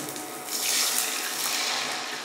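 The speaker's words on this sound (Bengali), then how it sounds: "পরিমাণ মতো জল দিয়ে দিলাম।" Water is poured into a pan of fried curry leaves and chilli for dhokla, giving a steady rushing, splashing pour about two seconds long, heard up close with no voices.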